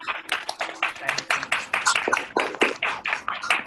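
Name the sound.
online audience applauding Devesh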